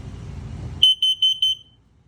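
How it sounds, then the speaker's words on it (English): After a low rumble stops, an electronic alarm sounds a rapid series of about seven sharp, high-pitched beeps, loud and close, then silence. "This is your LP detector."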